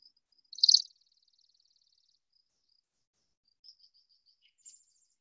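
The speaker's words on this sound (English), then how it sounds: "This is the beautiful chipping sparrow, and he's got a charming trill." Chipping sparrow giving a short, bright, rapid trill of buzzy notes, loud for under a second, followed by a long fading series of faint chips and a few soft distant calls in an otherwise quiet outdoor setting near the Chicago area.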